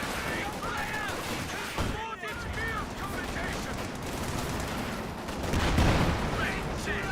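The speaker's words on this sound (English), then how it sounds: "Explosive rounds hitting" Explosive rounds slamming into the ground in a Company of Heroes 2 battle, a dense, continuous barrage of bursts and gunfire with a heavier surge of impacts near the end.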